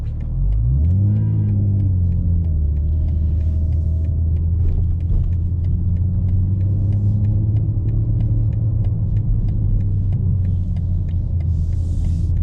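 A 2024 BMW M4 Competition xDrive rumbles while being driven in four-wheel-drive sport mode, a loud, steady low engine drone from inside the car with a brief rising rev near the start.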